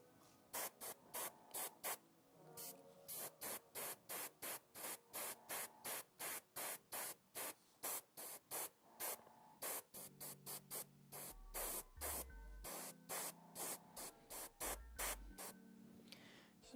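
An airbrush sprays jade paint onto an Immortal Hulk miniature in repeated short hissing bursts, about a second each, close and loud with brief gaps between, plus a few low thumps near the end.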